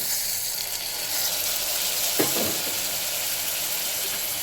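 Tomatoes frying in a pan for a flat bean and potato tomato curry, a steady bright sizzle and hiss that flares briefly midway as the pieces hit the hot oil.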